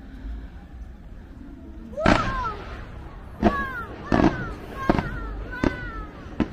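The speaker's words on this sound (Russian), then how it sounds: "Сейчас начнется фейерверк, и мы его будем смотреть с Сиднейского моста" Fireworks bursting over a replica Sydney bridge at a Chinese theme park, a series of five or six sharp loud booms spaced a second or so apart, each with a rumbling tail, over crowd background noise.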